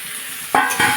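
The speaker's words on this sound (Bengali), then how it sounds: "ডালটা পরিষ্কার করে ধুয়ে নিয়েছি, ভেজে নেব।" Washed mung dal frying in a pan, a steady sizzle that jumps louder twice as it is stirred, close and with no voices.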